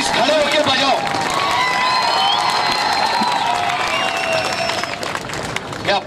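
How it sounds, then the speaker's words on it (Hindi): A large audience applauding while on its feet, a dense continuous wash of clapping and cheering that runs steadily for several seconds before tailing off. "पहले तो उनके लिए तालियां बजाओ और प्लीज खड़े होकर बजाओ"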